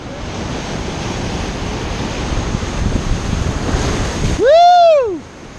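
Ocean waves wash over rocks during rock fishing near Sydney, a loud continuous surf roar with wind buffeting the microphone, and a shrill whoop or whistle rising and falling near the end.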